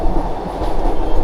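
A steady, loud low rumble of a train in motion in the Swiss Alps, heard from inside a carriage, with continuous rolling noise and no talking.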